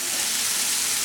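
Shredded cabbage and onions sautéing in a pan over low to medium flame, a steady soft hiss of frying, brief and even.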